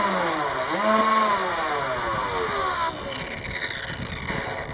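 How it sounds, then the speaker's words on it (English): An RC speed car's electric motor revving up to full throttle: a loud, high whine that rises steeply in pitch, then holds a strained scream before dropping slightly in level, with a voice faintly underneath. "this is like a tenth of the throttle right there, getting into about half, and there's full speed."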